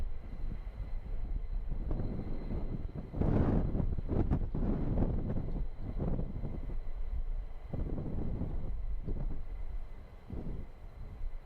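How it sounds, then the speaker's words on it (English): Strong night wind at RAF Lakenheath, heard from on top of a van, buffets the microphone with a constant loud low rumble and gusty thumps, and a faint steady tone runs beneath it. "it's really, really windy here tonight. I'm sure you could hear it on the mic"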